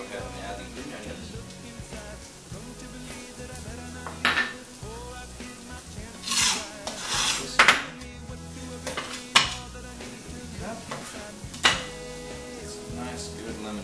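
Green onions go into a pan of mussels, with clattering utensils, scraping and a soft sizzle, sharp metallic clinks standing out over steady cooking noise, close by.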